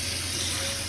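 Water runs and splashes steadily while a carbon steel pan is rinsed and cleaned at a sink, a close, continuous gushing wash.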